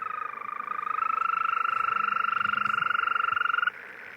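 A steady, high-pitched trill from European green toads calling at night carries unbroken for several seconds, close and prominent, before stopping suddenly and leaving quiet ambience.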